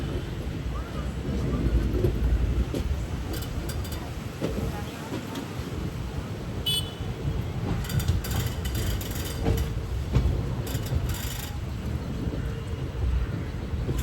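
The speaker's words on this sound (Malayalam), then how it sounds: "ട്രെയിൻ ഇപ്പോൾ കോഴിക്കോട് റെയിൽവേ സ്റ്റേഷനിലേക്ക് എത്തുകയാണ്" A passenger train pulling into Kozhikode railway station toward platform 1, a loud, continuous rumble of rolling wheels and rattling carriages with wind buffeting the microphone and occasional higher metallic squeals.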